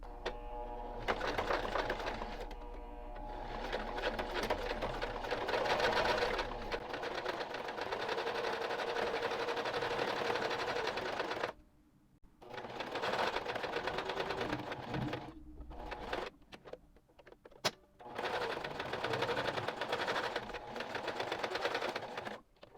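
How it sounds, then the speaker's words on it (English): A sewing machine sews a seam on a beginner shirred, smocked top with long stretches of steady rapid whirring, interrupted by a few short stops and restarts, close up with no talking. "now that we're all set pinned, we're going ahead and sew"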